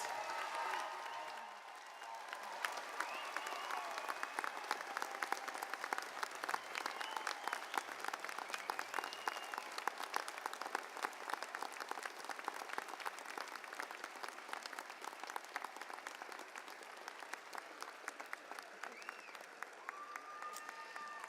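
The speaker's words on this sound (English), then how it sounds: "give them a big round of applause" Sustained audience applause for graduates at a Red River College spring convocation ceremony, a dense, steady wash of clapping from a large crowd filling the hall throughout with scattered cheers.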